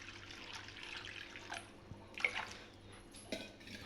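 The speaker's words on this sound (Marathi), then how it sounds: "यामध्ये आपण आता थोडंसं पाणी घालूयात" A little water is poured into a pan of vegetables, heard as a faint, brief trickle and splash in a quiet kitchen.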